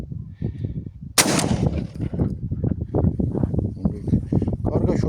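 A Benelli Ethos Sport shotgun, fitted with a half choke, fires a single sharp, loud blast partway through, with voices talking throughout.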